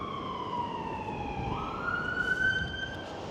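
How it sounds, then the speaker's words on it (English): A wailing emergency siren sweeps up and down in pitch, steady and moderately distant over a low rumble of traffic in Blackpool, heard from Blackpool Pleasure Beach, with no voices. "there's non-stop sirens today"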